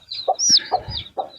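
Young chicks chirp in short, bright peeps, three or four quick calls in a row, heard close and alone, during F1 vaccination of the chicks.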